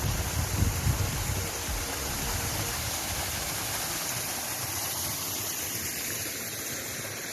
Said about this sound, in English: We've just stopped off at this waterfall.